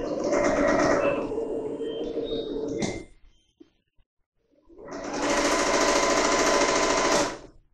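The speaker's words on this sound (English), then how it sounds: "And then I'm just going to stitch down the rest of the side here." Sewing machine running in two long bursts while stitching the side seam of a performance dress (Butterick 5137), a loud steady mechanical whir that stops for a short pause and then starts again.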